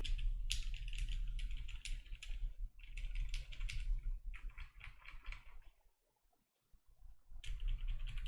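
Rapid clacky keystrokes on a mechanical keyboard with Gateron Black Ink v2 switches come in bursts, pausing briefly near the end before the typing resumes, close and fairly quiet.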